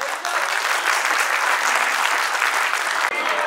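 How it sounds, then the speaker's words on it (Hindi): Audience applause at a mushaira, a dense, steady wash of clapping that is loud and close, filling the room evenly from start to finish with only a brief dip near the end. "तालियां बजा के बताओ।"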